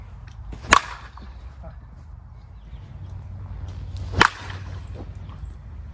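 A softball bat, either a Suncoast Ruckus 12" Comp Edge or a Miken Freak 23 Kyle Pearson USSSA 240, strikes a ball twice, two sharp, close cracks a few seconds apart over low background rumble.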